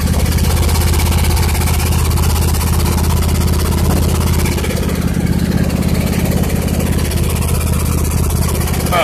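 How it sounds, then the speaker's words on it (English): The engine of a 2007 Husqvarna YTH2454 riding lawn mower, not yet warmed up, runs in a steady, loud, close drone with only a slight rise in revs. "I rev it a tiny bit, but not much because it's not really warmed up."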